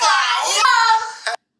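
A single short burst of pitch-shifted voice edited in KineMaster, with a warped, unnatural tone that is loud and close for about a second and a half before cutting off abruptly.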